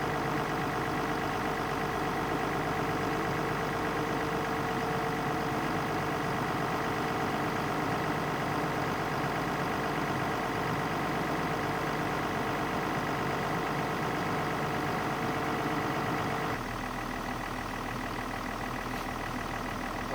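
An old excavator engine, freshly revived, runs steadily at idle with a continuous loud, even diesel rumble and throb, changing character slightly toward the end as the throttle shifts.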